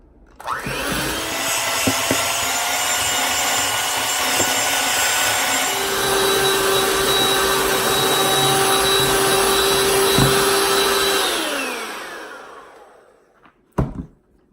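Key lime pie filling being whisked makes a steady, loud motor whirr that shifts to a lower, stronger tone partway through, then winds down and fades, followed by two quick knocks.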